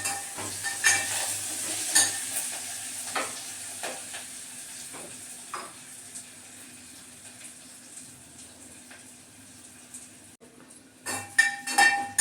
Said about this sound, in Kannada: ಇದ್ರದ್ದು ಆಲೂಗಡ್ಡೆ ಪಲ್ಯಕ್ಕೆ ಒಗ್ಗರಣೆ ಮಾಡತ್ತೇನೆ.